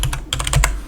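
Quick keystrokes clatter on a computer keyboard, about eight close, crisp clicks in under a second.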